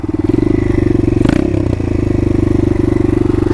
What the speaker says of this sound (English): I gotta give you guys a quick look at the bike. You know I gotta do that. And how it sounds.